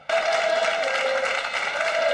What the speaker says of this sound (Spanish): En ese Madrid bestial destacó Pepe, los suyos le vitorearon.